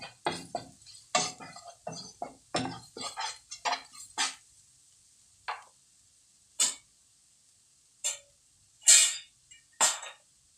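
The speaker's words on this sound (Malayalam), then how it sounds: "നന്നായിട്ടൊന്ന് ഇളക്കി കൊടുക്കാം." A spoon scrapes and taps in a pan while chicken is stirred with black pepper powder, giving a series of sharp clinks and scrapes, quick and dense at first, then sparser and more spread out, close and alone.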